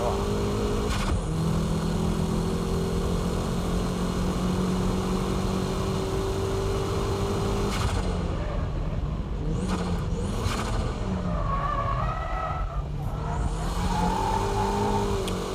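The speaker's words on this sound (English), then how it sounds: "That corner entry began as a braking drift, but towards the exit I switched to dynamic drifting." A car drifts through a corner, its engine holding a steady high rev that then drops and surges with the throttle changes, loud and close, with someone talking over it.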